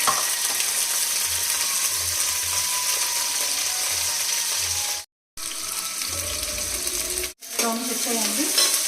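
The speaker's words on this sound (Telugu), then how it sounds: "ఆయిల్ అయితే వేసుకున్నాను. ఆనియన్, మిర్చి, పుదీనా" Onion, green chili and mint frying in oil for stuffed boda kakarakaya, a dense steady sizzle with scraping stirs and faint clinks, broken twice by sudden brief silences, close and fairly loud, with no talking.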